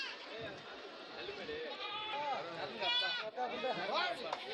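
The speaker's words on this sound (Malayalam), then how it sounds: "ഇഷ്ടംപോലെ ആടുകൾ അവർ വാങ്ങി കെട്ടിയിരിക്കുകയാണ്" Goats bleat repeatedly at a busy Kilimanoor goat market in Kerala, several wavering cries overlapping close by under a steady murmur of people talking.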